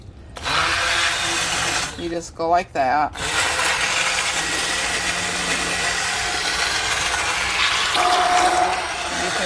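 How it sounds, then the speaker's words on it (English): An immersion blender whirs loudly as it purees yellow squash soup, running steadily almost the whole time, with a brief spoken comment and a few interruptions near the start. "I'm sure everybody has seen an immersion blender"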